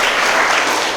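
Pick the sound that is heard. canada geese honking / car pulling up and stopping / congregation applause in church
congregation applause in church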